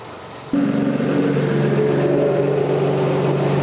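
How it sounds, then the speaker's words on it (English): A farm water pump kicks on abruptly after a short quiet stretch and then runs with a steady loud mechanical hum and drone. "you can hear the pump load, and then it loses prime, and then it loads, and it loses prime"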